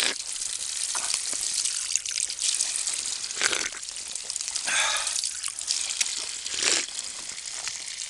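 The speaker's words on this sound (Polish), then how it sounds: "Zobaczcie, jak woda leci." Spring water splashes and trickles steadily from a dug-out source in Île-de-France, France, a bright hissing flow with a few louder gushes, close by and without talk.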